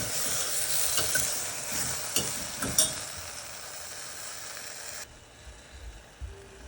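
Okra fries in a pan with a crisp sizzle and several sharp stirring scrapes close by, the hiss dropping away near the end, leaving a quieter background.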